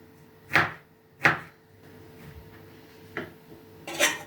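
A knife chops vegetables on a cutting board while a cucumber salad with Napa cabbage and smoked chicken is prepared: four separate sharp, close taps spaced unevenly, two near together at the start and two more later, with a quiet room between them.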